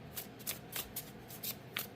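Tarot cards shuffled by hand, a series of crisp riffling bursts repeating roughly every quarter second, close and clear with no talking.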